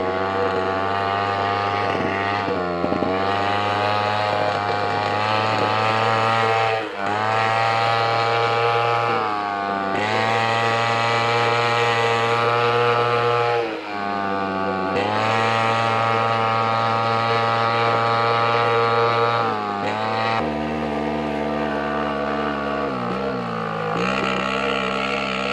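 A two-stroke diesel moped engine runs continuously with a steady buzzing drone, pitch rising and falling with throttle over about 25 seconds, loud and close, with no talk.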